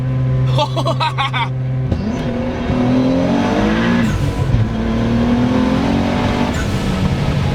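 A big-turbo Nissan 300ZX accelerates hard on a highway, its engine note rising loudly and steadily from inside the car, with a brief shift break partway through and the sound continuing strong to the end.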